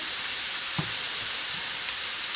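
Drops of boondi batter fry in hot oil, giving a steady, close sizzle and hiss with a couple of soft stirring clinks and no voices.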